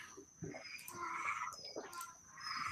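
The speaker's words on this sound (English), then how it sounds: "There's frogs and donkeys going off right now in the background." Frogs croaking somewhere in the background, short chirping and trilling calls coming and going over a low outdoor ambience, fairly faint and distant.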